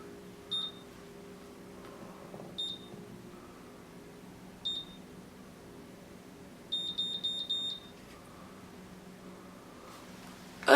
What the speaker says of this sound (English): It's supposed to wait for 5 beeps.